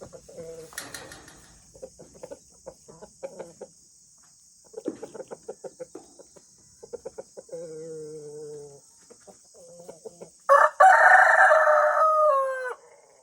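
Jersey Giant chickens let out of a mobile coop make repeated clucks and calls, then a loud nearby rooster crow rings out over a steady high hum.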